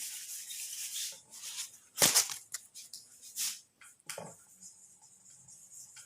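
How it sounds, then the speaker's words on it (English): Eraser or duster rubbing a board during a lesson, a dry scraping friction in uneven strokes with one sharper swipe near the middle, close and fairly loud, no talking. "But I am rubbing this now."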